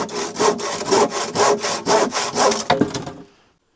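A handsaw cuts through a wooden shelving piece in steady back-and-forth strokes, about six rasping passes close to the microphone, then stops abruptly into silence.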